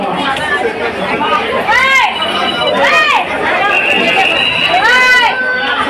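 Dense crowd chatter fills the courtyard of Gajanan Maharaj temple in Shegaon, a steady loud babble of many voices with nearby calls rising above it throughout.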